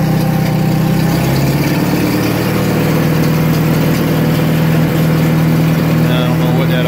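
An International 424 tractor engine idling steadily, a loud, continuous low rumble close by with a slight shift in pitch early on and wind or mechanical noise over it.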